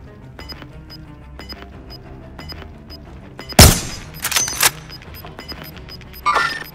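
Gunfire in Call of Duty: Modern Warfare: one loud sharp shot cracks out over steady game music, followed by a few quicker bursts and a later shot, close and punchy.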